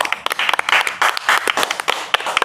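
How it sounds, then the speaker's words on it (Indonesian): Applause from a studio audience during a show about Betawi culture: a brief, lively burst of many hands clapping, dense and close, lasting a couple of seconds. "Tepuk tangan dong permisa yang ada di rumah."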